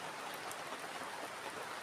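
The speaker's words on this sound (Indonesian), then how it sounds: "walaupun malam ini hujan-hujan seperti ini ya" Rain falls steadily at night over a campsite beside a river, a dense, even patter on surfaces close by, with no voices.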